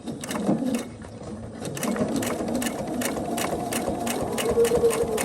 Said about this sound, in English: put it down, back stitch to lock your stitch in